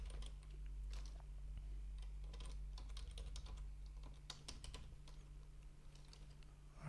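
Fingers type rapidly on a computer keyboard, a continuous close clatter of key presses over a low steady hum.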